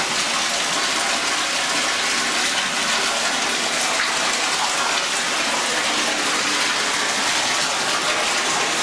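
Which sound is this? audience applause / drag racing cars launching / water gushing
water gushing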